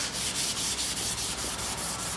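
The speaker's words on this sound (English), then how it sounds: "Now, if you have a little bit of rust on there, try a scouring pad first." A scouring pad scrubs surface rust off a lathe in quick, rhythmic back-and-forth strokes, a close, steady abrasive rasp repeating about four times a second.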